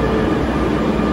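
Inside a Barcelona metro train, a loud, dense rumble of wheels and motors fills the carriage, steady and close for a moment with no voices.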